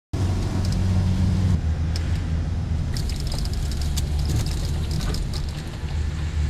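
A camper van drives along a road on an Arctic road trip, its engine and tyre rumble steady and close throughout with no talking.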